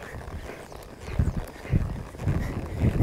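Horse hooves clip-clop in a steady rhythm as a rider works the horse at a collected gait, with footfalls close by and fairly clear over soft background noise.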